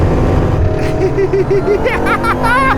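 A Bugatti Bolide hypercar roars around the Spa circuit, its loud engine note steady and droning with pitch swells as it shifts.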